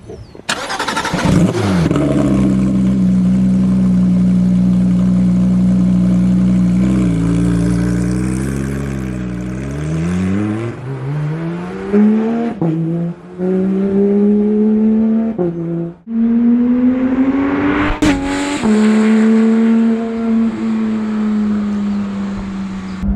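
A 2019 Porsche 911 GT3 RS starts with a sharp bark, then its engine settles into a loud steady drone and rises repeatedly through the revs as it is driven, with brief drops between pulls.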